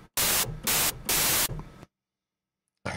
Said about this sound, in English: set the waveform here to white noise, and you've basically got white noise which will play whenever you hold down a MIDI note.